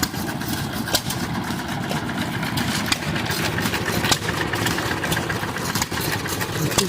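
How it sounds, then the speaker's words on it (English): A jeep engine idles at an outdoor festival, a steady mid and low rumble that runs through the whole stretch, with faint crowd murmur underneath. "Jeeps."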